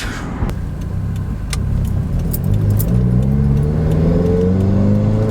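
A 2018 Subaru WRX engine with a GrimmSpeed cold air intake hums steadily, then rises in pitch as it accelerates in second gear, with a whooshing turbo intake sound and a few light metallic jingles near the start.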